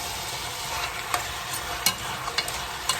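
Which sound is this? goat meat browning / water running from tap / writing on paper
goat meat browning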